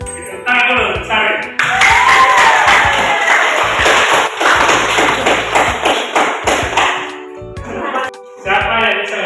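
Classroom applause from a group of students, a dense burst of clapping lasting several seconds with voices mixed in, fading near the end.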